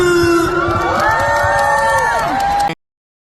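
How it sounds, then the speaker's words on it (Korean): An audience at a trot concert in Incheon cheers and shouts loudly and continuously, with a voice ringing out above the crowd before the sound cuts off abruptly. "박수!"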